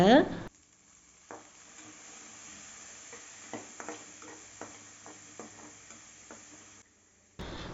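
Boiled white chickpeas and salt are stirred with onion in a pan, a quiet, low sizzle broken by scattered spoon scrapes and light clinks, with brief louder noise at the start and end.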